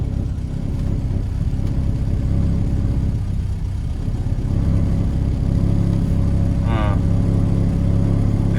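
A Land Rover Series 3 engine runs steadily just after a cold start, a loud, close, throaty idle with a constant low rumble and slight unevenness throughout.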